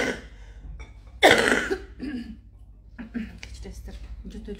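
A single loud, harsh cough bursts out, followed by softer throat-clearing and breathy sounds from someone speaking in an indoor talk setting.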